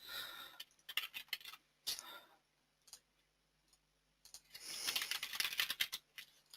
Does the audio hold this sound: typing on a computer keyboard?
yes